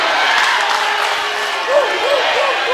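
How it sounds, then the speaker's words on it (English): Crowd noise at a high school basketball game, Bradford at West Carroll, a dense and continuous roar of cheering and shouting voices filling the gym, loud and sustained throughout. "I can't even tell who's cheering anymore."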